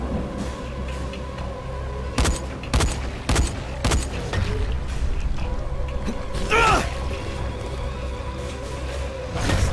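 Gunfire in the zombie video game Dying Light cracks out in four sharp, evenly spaced shots over a loud, droning game background, followed by a rising whoosh.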